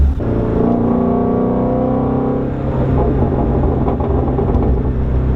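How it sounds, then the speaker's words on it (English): A Shelby GT350's deep naturally aspirated V8 revs up and holds a throaty, rumbling roar, loud and close, rising in pitch before settling into a steady growl. "The new like turbo cars just don't sound anywhere near as good as a naturally aspirated V8."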